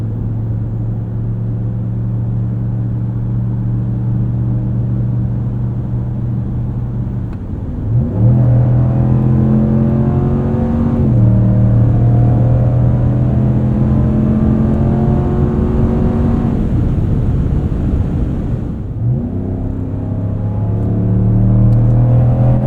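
A 2026 Ram 1500 with its 5.7L Hemi V8 drones loudly and steadily, then revs hard twice, rising each time, while lapping a track's banked corner.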